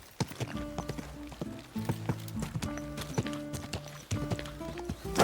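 A horse trots in the video game Kingdom Come: Deliverance 2, its hooves clip-clopping in a steady, close rhythm with some tack jingling and a brief voice in the background.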